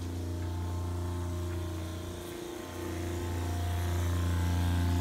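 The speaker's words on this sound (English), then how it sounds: "I'll show you the hot water heater working." Propane hot water heater in an off-grid cabin running steadily, a loud continuous low hum and buzz with a slight dip midway, no talking.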